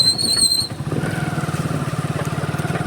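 A motorcycle engine revs lightly in first gear while riding on half clutch, a close, pulsing low engine throb with a brief high whine at the start.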